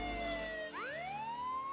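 Police car siren in the game Contraband Police, a loud wailing tone that drops, cuts out briefly, then sweeps up again as it restarts.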